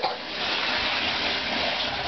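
Water running from a tap into a condom, a steady close rushing gush that starts abruptly and holds even throughout, with no talking.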